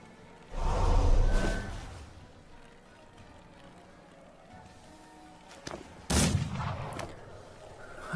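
Shooting in a video game match: a loud booming shot with a rolling tail near the start, a quieter stretch, then a second sharp blast and rumble later, with no talking.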